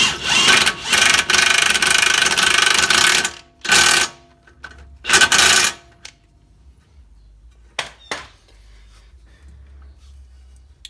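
Power tool tightening a tie rod nut during a Mitsubishi front wheel bearing job: several loud broadband bursts of a few seconds each, the first stretching about three seconds, then quieter clicks and faint handling noise, no talk.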